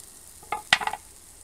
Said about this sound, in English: You hear the sizzles.